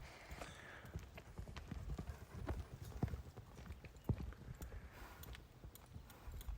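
Steady clip-clop of horse hooves on firm ground, a quick rhythmic pattern of hoofbeats close by, continuing throughout with light background noise.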